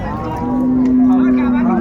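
A dairy cow or calf lows once in a long, steady moo at a busy rural cattle market in Dinajpur, close and loud over a murmur of crowd noise.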